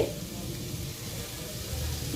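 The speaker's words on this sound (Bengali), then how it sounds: "আলু পেঁয়াজ বেশ কিছুটা ভাজা হয়ে গেছে।" Potatoes and onions frying in a wok give a steady, close sizzle with low crackle throughout, no speech.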